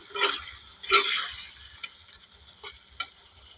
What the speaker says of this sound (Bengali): আমি গ্যাসের ফ্লেমটা একদম লোতে করে দিচ্ছি। দিয়ে একটু সামান্য নাড়িয়ে নিচ্ছি।